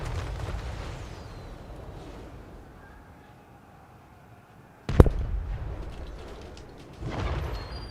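Cannon fire from a battle in the video game Total War: Warhammer III: a low rumbling din of combat, then one sharp, loud blast partway through, followed by renewed rumbling, with no voices.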